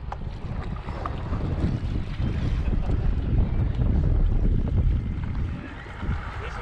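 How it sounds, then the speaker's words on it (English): Strong wind buffets the microphone out on the water while paddleboarding, a loud continuous low roar that swells and eases, with faint splashing beneath. "the wind is pushing me back"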